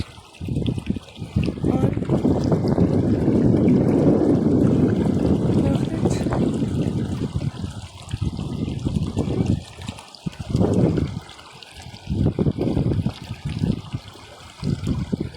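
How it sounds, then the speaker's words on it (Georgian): The Alazani river near Sioni in Kakheti rushes steadily close by, a loud continuous broadband wash of flowing water that swells and dips, with gusts of wind buffeting the microphone. "დატკბით ამ წყლის ხმით"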